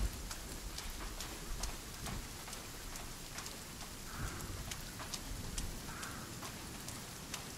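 Steady rain falls on a beach in the survival game Sons of the Forest, a dense even patter with scattered drop ticks and no voices over it.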